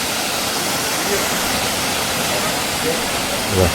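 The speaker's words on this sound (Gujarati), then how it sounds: "પાણીનો તમને અવાજ પણ આવતો હોય છે પાણી ગાજે છે એટલું" Constant rushing roar of falling water, loud and unbroken, like a waterfall close by, at the Galdhara Khodiyar temple.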